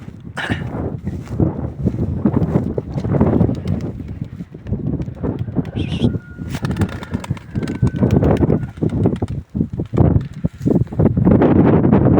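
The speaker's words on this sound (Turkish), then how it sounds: "bir rüzgar var arkadaşlar" Strong wind buffets the microphone in continuous gusty rumbles, with faint rustling underneath and no voices.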